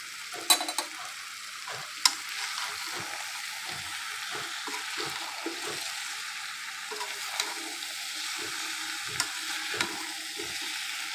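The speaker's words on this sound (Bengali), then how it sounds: "কাঁঠালগুলো আমি ভেজে রেখে দিয়েছিলাম এই মশলার সাথে এখন ভালোভাবে আমি মিশাই নেব" Oil-fried jackfruit is stirred into spice masala in a pan for a Bengali meat curry, with repeated scraping spoon strokes over a soft background sizzle and no talking.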